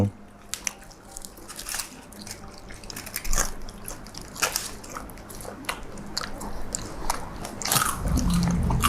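Crispy deep-fried pork tail with crackling skin is bitten and chewed up close, giving repeated crunches and moist squishes, with voices faint in the background.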